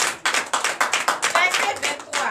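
A church congregation at a Sunday service in Benin claps loudly in a steady rhythmic beat, the hand claps evenly spaced and close, with no talking over them.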